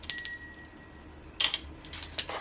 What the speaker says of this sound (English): Christmas bell.